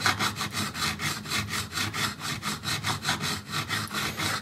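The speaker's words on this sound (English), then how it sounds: "we're going to let the sandpaper do most of the work" Sandpaper rubbing back and forth over guitar frets during fret levelling, a steady rhythmic scraping of repeated strokes about four per second, close and fairly loud with no talking.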